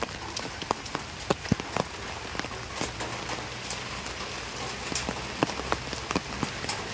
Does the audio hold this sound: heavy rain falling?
yes